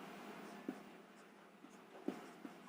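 A pen scratches on paper as an answer is written during a maths lesson, with faint, intermittent strokes and a few small taps over quiet room hiss.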